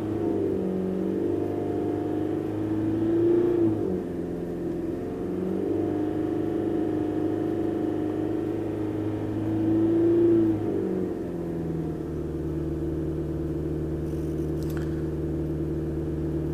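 A diesel car engine with a faulty exhaust temperature sensor after the particulate filter is revved under throttle in two steady swells, with a constant idle drone between them, close and loud, no talking.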